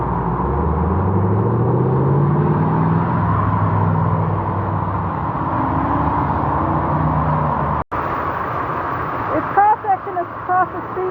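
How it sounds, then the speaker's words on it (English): Traffic rumbles past on a flooded street as cars struggle to cross, a steady engine drone with a low passing vehicle, heard from a bus shelter nearby, ending in a few brief knocks. "Cars are having trouble getting across."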